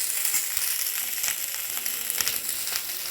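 Chopped ivy gourd (kundru) frying in a pan for a masala curry, giving a steady, even sizzle throughout with faint scraping clicks scattered through it and no voices.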